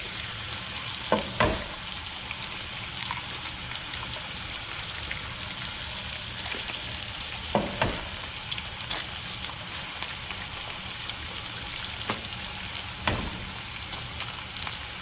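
Bacon crackles and sizzles continuously in a pan, close and steady, with a few sharp pops and scraping taps spaced through it and no talk.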